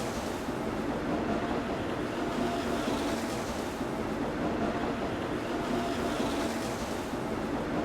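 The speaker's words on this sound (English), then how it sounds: "the train comes screaming into the station" A train in the Steins;Gate video game comes roaring into a station, a loud, steady, broadband rumble and rush that fills the whole stretch without letting up.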